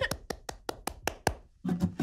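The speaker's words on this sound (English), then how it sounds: "I'm clapping my hands" Seven crisp, evenly spaced hand claps ring out alone at a steady beat, followed by a brief low murmur of a voice.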